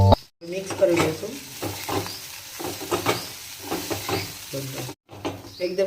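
Poha stirred in a hot sizzling pan: a soft frying hiss with repeated scraping strokes of a spoon against the metal, while a voice talks over it.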